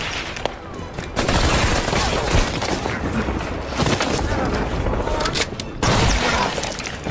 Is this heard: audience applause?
no